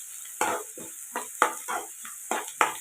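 Onions sautéing in a pan for a dry Tamil pepper chicken, with steady frying sizzle broken by about half a dozen rhythmic stirring scrapes, close and fairly loud, no voices.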